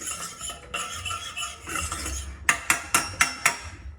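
A utensil stirs flour into a roux in a cooking pot. Quiet scraping gives way to a run of sharp, rhythmic clinks and taps against the pot's sides, close up and alone.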